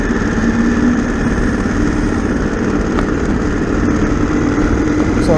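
Harley-Davidson Sportster S motorcycle engine on a test ride, a loud, steady rumble heard up close with constant wind and road noise and no audible talk.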